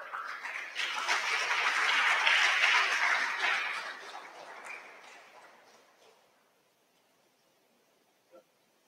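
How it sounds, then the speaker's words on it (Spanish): Applause from an audience welcoming a speaker at a geology and mining research presentation, dense clapping that swells, then fades to silence, followed by one faint knock. "a quien recibimos con un caluroso aplauso"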